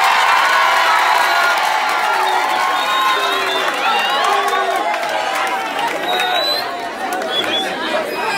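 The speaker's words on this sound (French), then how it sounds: "sous vos acclamations, bien sûr, on va introduire un professeur de mathématiques" A loud school crowd at a science quiz opening day chatters, shouts and cheers continuously in a hall as a mathematics teacher is introduced, with children's whoops and voices mixing throughout.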